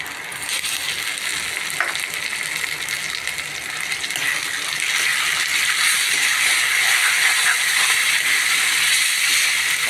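Tomato puree hits a hot pan and sizzles, a bright, steady frying hiss that swells a little louder midway and holds close and continuous without talk.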